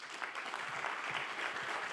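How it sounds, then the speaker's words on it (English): Audience applause at an investment conference panel in a hall, a soft, steady wash of clapping heard from a distance. "Can we get a round of applause for Justin Tuck?"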